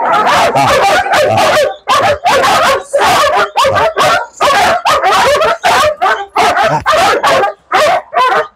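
A female dog barks during protection training, loud and close, in rapid repeated bursts with short pauses, mixed with yips and whimpering whines.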